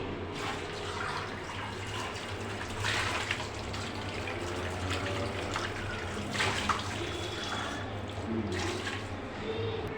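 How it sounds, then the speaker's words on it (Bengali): Dried fish being washed again under running water while cooking with gourd, a steady close splash and trickle lasting throughout. "আমার শুটকিটা ধোয়া ছিল আমি আবার ধুচ্ছি"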